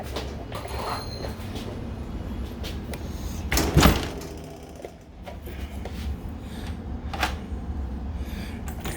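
A key turns a newly installed Kwikset deadbolt in a door, giving one brief mechanical clunk midway through, over a steady low room hum.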